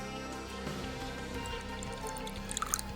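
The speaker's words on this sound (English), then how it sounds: "I'm just going to pour a little bit right there." Water poured from a small container into a tarantula enclosure trickles softly, ending in a few faint, close drips and splashes against a quiet background.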